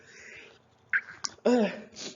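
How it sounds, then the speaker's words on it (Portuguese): A single short sneeze bursts out abruptly between bits of speech, with a brief catch of breath before it. "Eu vou espirrar."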